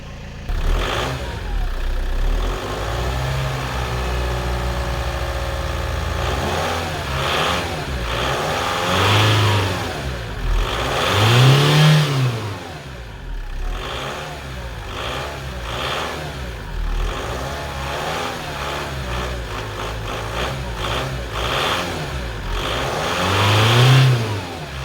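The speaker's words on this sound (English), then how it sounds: "there is still a gearbox noise." Vauxhall Vectra B engine revving repeatedly, with rising and falling pitch sweeps over a steady running drone, close and loud, where a gearbox noise accompanies the revs.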